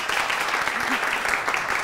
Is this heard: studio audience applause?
yes